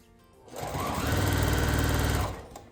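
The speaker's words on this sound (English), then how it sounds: "we're just gonna sew around the entire edge of our lanyard" A sewing machine runs a short, close burst of rapid, even stitching around the edge of a fabric badge lanyard, starting and stopping cleanly with no talk.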